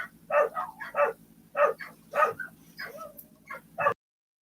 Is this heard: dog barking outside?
yes